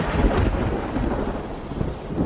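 Steady heavy rain pours outdoors with a low rumble of thunder rolling underneath, a dense, continuous wash of noise with no voices.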